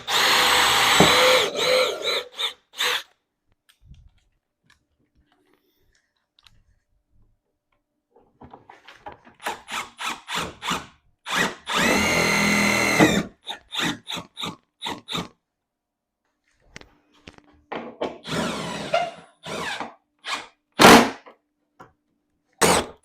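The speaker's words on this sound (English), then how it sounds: "I'm just going to drill a couple holes in the bed" A power drill bores holes through the bed of a Yamaha golf cart in several separate bursts, each a loud close whine with sharp clicks and taps between them and quiet gaps in between.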